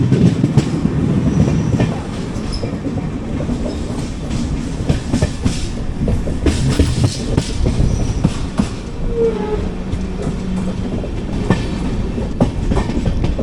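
Kondaveedu Express train running into Anantapur station in India, a loud continuous rumble of wheels with rhythmic clatter and rattling carriages heard from on board, no talk.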